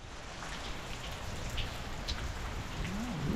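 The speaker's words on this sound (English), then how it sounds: "Still raining." Steady rain falls on a trail at Gathland State Park, a soft, continuous patter filling the whole stretch with a faint wavering tone near the end.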